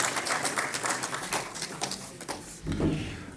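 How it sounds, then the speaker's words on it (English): Audience applause following an address at an official event for Delhi's Deputy Chief Minister, a dense wash of many hands clapping throughout, steady and moderately loud, swelling briefly near the end. "Please give a huge round of applause"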